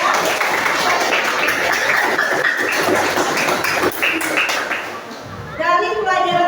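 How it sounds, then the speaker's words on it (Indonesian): Classroom applause from students at the end of a lesson on writing fantasy stories, a steady dense clapping that fills most of the stretch before fading, with some voices mixed in. "Itu kita beri tepuk tangan untuk kita semua ya."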